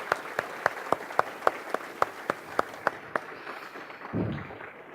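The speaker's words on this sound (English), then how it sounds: "Let's just give Ian a round of applause for bringing this together." A small audience at a talk applauds in thin, evenly spaced claps, a few distinct hands at a steady rhythm for about three seconds before stopping, followed by a brief rustle.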